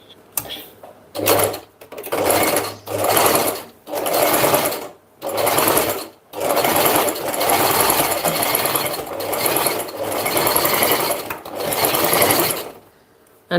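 A sewing machine runs in repeated bursts of stitching through fabric with pins still in place, each run lasting one to three seconds with short pauses between, close and steady with a busy mechanical whir.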